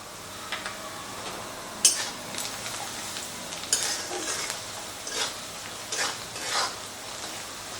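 Spices (turmeric, Kashmiri chilli powder, black pepper and salt) stirred in a pan for onion rice, a soft steady scraping with several sharper spoon knocks against the pan, faint and close, no voices.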